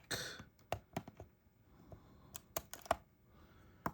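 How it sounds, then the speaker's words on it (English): Small clicks and snips as plastic ties are cut to free a doll from its packaging, a sparse run of sharp, close, quiet ticks with pauses between them. "We're gonna do our little nipping to get her free from her plastic."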